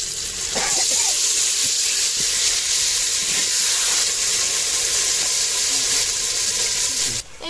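Chicken pieces dropped into a hot clay pot and sizzling, a steady, loud, broad hiss of frying that carries on evenly for several seconds, with faint clinks and scrapes underneath and no talking.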